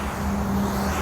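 Road traffic hums steadily beside the Philadelphia Belt Line rail trail, a continuous low rumble of passing cars at moderate distance with no voices over it.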